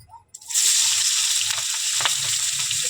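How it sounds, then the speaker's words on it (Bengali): Onion and green chilies frying in mustard oil in a wok for a rohu fish curry give a steady, close hiss and sizzle that starts abruptly and holds evenly, with light stirring clinks and no talking. "এই যে আমি মাছের ঝাল বসানোর জন্য কড়াইয়ের মধ্যে সরিষার তেল ঢেলে দিচ্ছি। ওর মধ্যে পেঁয়াজ খোঁচানো দেবো, পেঁয়াজ আর কাঁচা লঙ্কা খোঁচানো দেবো।"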